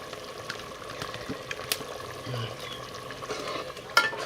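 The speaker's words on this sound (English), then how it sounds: "I'm stirring it now." A spoon stirs fish bitter leaf stew in a pot, producing soft steady scraping and liquid swishing with faint sizzling beneath, close and quiet, with a brief clink near the end and no talking.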